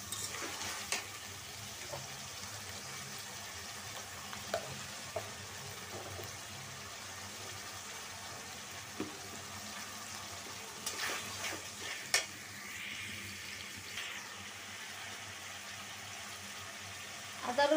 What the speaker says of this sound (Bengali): আদা রসুনটা আমি কষায় নিচ্ছি আগেই।